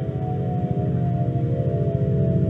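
A simulated rendering of the early universe's sound waves plays as a low, droning hum with layered tones and a rhythmic pulsing flutter, steady and moderately loud throughout.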